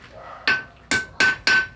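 A blacksmith's hammer taps on an anvil in four sharp, ringing metallic strikes, close and loud, spaced irregularly with a bright lingering ring after each.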